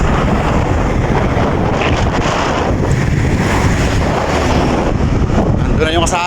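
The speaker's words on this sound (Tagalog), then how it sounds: "Mahangin" Strong, steady wind roars across the microphone on the road to Mount Samat in Bataan, a loud continuous rush with faint vehicle noise beneath and brief speech near the end.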